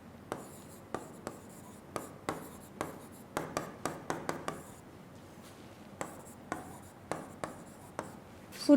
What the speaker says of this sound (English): I am writing few differential equations.